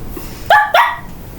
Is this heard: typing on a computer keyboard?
no